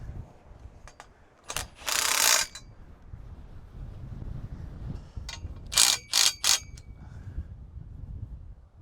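Socket wrench with a 14 socket ratcheting carriage bolts snug on a bow assembly: one short burst near the start, then three quick ratchet bursts later, close against a quiet background.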